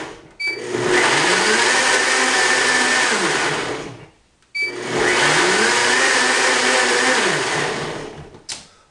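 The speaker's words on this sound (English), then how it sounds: "I'm going to do a quick blend here." Blender whirring loudly through a green smoothie fruit base in two bursts of about four seconds each, with a brief pause between them, the motor pitch sagging and recovering as the contents churn.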